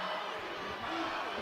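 Basketball crowd noise at a women's college game between free throws, a steady diffuse murmur and rumble of many voices filling the arena throughout.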